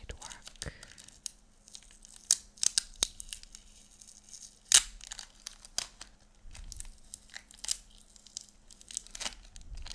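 Sticky tape is handled close up, with sharp peeling rips and soft crinkles in scattered bursts over a quiet background.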